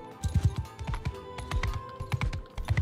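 Horse hooves clip-clopping in the video game Mount and Blade, a steady run of close, rhythmic thuds repeating through the whole stretch with no talk over them.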